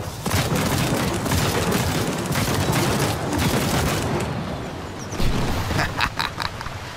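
Futuristic battle tank turret weapon firing in Trailmakers, a dense, continuous barrage of loud booming shots, with a few distinct blasts near the end.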